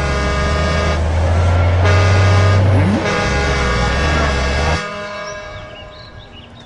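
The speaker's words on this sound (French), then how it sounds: "Regardez, comme si ça ne suffisait pas, voilà des bus." Buses pulling up in an animated Inazuma Eleven scene: loud, steady engine drone with a sustained horn blast over the first five seconds, then the engines cut and fade to a quieter rumble.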